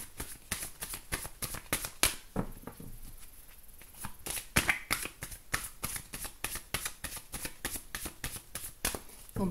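Tarot cards shuffle in rapid riffling bursts, crisp and close, with short pauses between passes and no talking over them.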